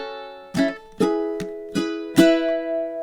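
Ukulele strummed in five crisp strokes at an uneven rhythm, each chord ringing briefly, close and clear with no talking.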